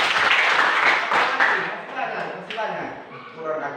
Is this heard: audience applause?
yes